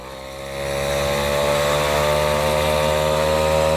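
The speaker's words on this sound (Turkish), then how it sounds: "Şöyle gördüğünüz gibi gayet güzel motor. Bastığınız zaman gidiyor yani." A Peugeot 103 moped engine fitted to a motorized bicycle with a belt drive and no clutch runs steadily nearby, its buzzing two-stroke drone rising in level after half a second and then holding constant.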